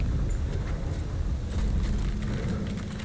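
Steady low whirring and rumbling of concrete plant machinery in the Roadcraft game, a constant close drone without pauses.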